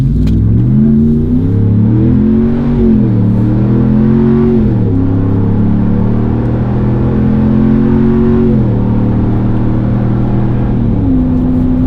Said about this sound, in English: Speaking of exhaust note, I'm gonna whip around here, let you hear it at wide open throttle.